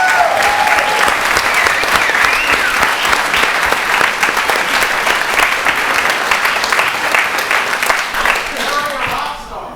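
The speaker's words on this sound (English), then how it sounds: "can I just have one more round of applause for our rock, Harry." Sustained, loud applause from a ceremony crowd at a proclamation ceremony, dense clapping filling the whole stretch with voices mixed in before it tapers slightly at the end.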